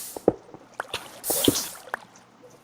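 Minecraft water and lava: scattered drips, wet pops and squishy blips at an uneven pace, with a brief hissing swell in the middle, fairly close and without talk.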